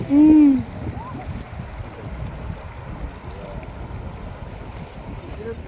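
A boat moves along a river with a steady low rumble of water and motion, opened by a brief loud hoot-like call, with faint voices in the background.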